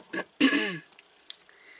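Someone clears their throat in two rough bursts, a short one then a longer rasping one, followed by near silence with faint small noises.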